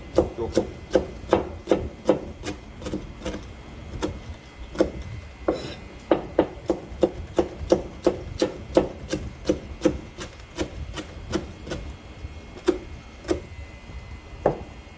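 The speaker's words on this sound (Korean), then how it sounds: "요런 전어는 저는 길게 씁니다" A knife slicing gizzard shad lengthwise on a board, a steady run of sharp, close, rhythmic cutting taps and scrapes, roughly two per second, with no talking.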